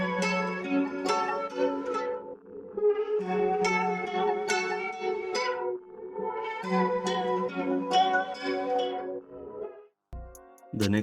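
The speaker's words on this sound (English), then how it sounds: "so the guitars all together sounds like this" Layered lo-fi guitar samples, treated with reels for a worn sound, play a plucked melodic pattern in repeating phrases, clear and up front, ending with a brief break and a short restart.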